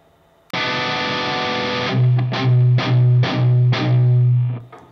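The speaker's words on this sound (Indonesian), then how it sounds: "itu suara ketika gue memainkan palm muting" A distorted electric guitar chord rings out, then several short, chugging palm-muted strums follow in a steady rhythm, loud and close.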